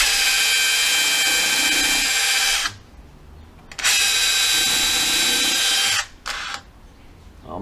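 Makita SDS DHR243 rotary hammer drilling and countersinking, two long loud steady runs of whining motor with a brief pause between, then a short final burst that cuts off.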